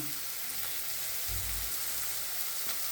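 Chopped onions and finely chopped garlic sauté in a pan over a raised gas flame, giving a soft, steady sizzle with one brief low thump.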